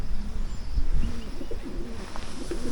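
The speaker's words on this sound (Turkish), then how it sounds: "Güvercinler var tepemizde." Pigeons coo overhead on a rainy rural walk near Zile, Tokat, soft low repeated coos in short phrases heard close above a steady outdoor background.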